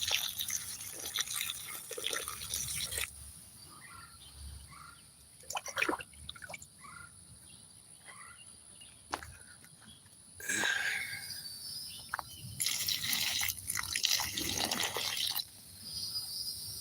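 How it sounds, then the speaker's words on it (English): Water drips and trickles onto freshly set-out garden plants and flowers in short bursts, with quieter gaps and faint outdoor insect sounds between the splashes. "But we can get a little water to some plants flowers I just put out here"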